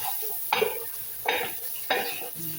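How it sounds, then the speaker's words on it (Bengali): Meat is stirred with spices, tomato and garlic in a sizzling pan, three scraping strokes of a utensil against the metal over a soft steady fry. "আমি ভালো করে মাংসটাকে গুঁড়া করে নিচ্ছি গায়ে"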